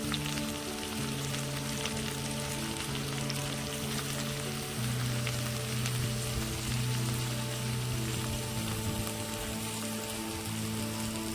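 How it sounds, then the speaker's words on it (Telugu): Cucumber pieces and broad beans cook in a pan with a constant, even sizzle like light rain, steady and moderately loud, while sustained musical tones play underneath. "చిక్కుడుకాయలు మగ్గాయండి, దోసకాయ ముక్కలు వేసుకున్నా."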